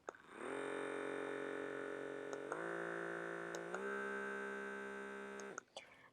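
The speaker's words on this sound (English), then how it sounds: "what it is like a vacuum for your pores" A small electric pore vacuum skincare device runs as a steady close-up whine with stable harmonics, shifting pitch slightly a couple of times before cutting off.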